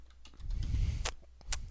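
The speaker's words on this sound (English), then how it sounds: "So I'm going to just start typing" Someone types on a computer keyboard while working in AutoCAD, giving a few soft, close key taps in a short quiet burst.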